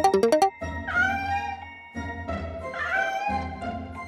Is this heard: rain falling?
no